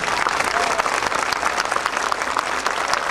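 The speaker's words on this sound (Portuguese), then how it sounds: "uma salva de palmas" A congregation at a Mass in Brazil gives a round of applause honoring Jesus Christ, a dense, even wash of clapping that fills the room throughout with little variation.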